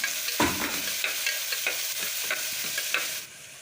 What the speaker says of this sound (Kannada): ಹಾಗಲಕಾಯಿ ಹಾಕ್ಕೊಂಡು ಕ್ಲೀನಾಗಿ 5ರಿಂದ 10 ನಿಮಿಷ ಎಣ್ಣೆ ಒಳಗಡೆ ಫ್ರೈ ಮಾಡ್ಕೊಳ್ತಾ ಇದ್ದೀನಿ